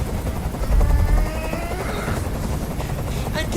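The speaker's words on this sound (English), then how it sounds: "tell that helicopter to get out of here" A helicopter hovers in the video game Detroit: Become Human, a loud, steady rotor roar and engine whine filling the whole clip.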